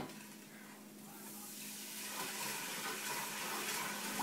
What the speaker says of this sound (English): What I'm going to do now is go ahead and add in my water.